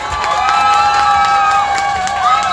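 At an outdoor rally in the rain, held in support of building a Park Chung-hee statue, a crowd claps and cheers steadily, with high shouts and whistles over a dense wash of applause.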